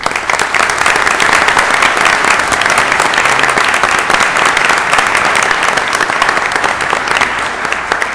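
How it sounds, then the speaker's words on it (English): A crowd at the Elmhurst city council meeting applauds loudly and steadily, dense clapping filling the whole stretch without pause. "let's give a round of applause for Emma Smith."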